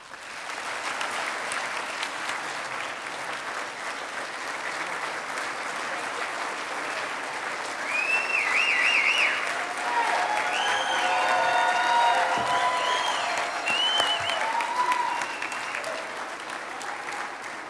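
Sustained applause from the audience at the 2025 American Quarter Horse Hall of Fame induction banquet, steady clapping that swells midway with a few whistles and cheers mixed in.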